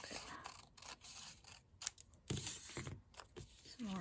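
Close scissor snips cutting paper for a junk journal, a few short crisp cuts and rustles spread through a quiet tabletop moment.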